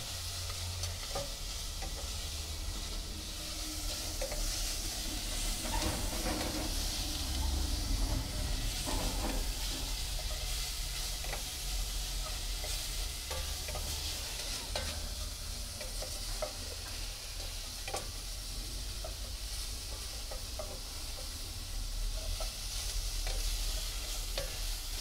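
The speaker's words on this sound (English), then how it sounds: "So that's frying up nicely." Steady close-up sizzling of leeks and garlic frying in a pot, with occasional stirring scrapes, continuous and fairly loud throughout.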